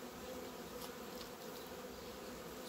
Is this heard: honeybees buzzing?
yes